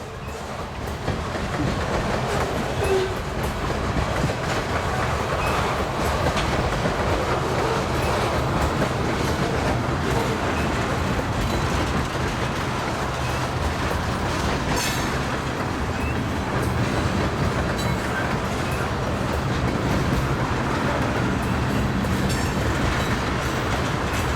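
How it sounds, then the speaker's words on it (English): A Union Pacific mixed freight train rolls past on the tracks, a steady loud rumble of railcars with rhythmic clickety-clack of wheels over rail joints and occasional faint wheel squeal, continuous for the whole stretch with no talk. "this is a rare train to come down this line"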